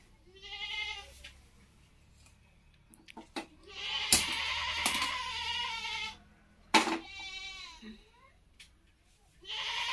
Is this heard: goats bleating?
yes